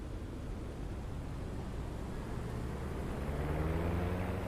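P-47 fighter engine in the DCS flight simulator, a steady low drone and broadband rumble that swells gradually, with a tonal hum rising toward the end of the short stretch.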